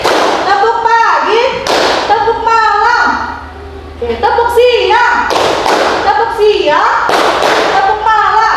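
Teachers clap out a rhythm game pattern, sharp hand claps and thumps in bursts, loud and close, alternating with voices calling out over the claps.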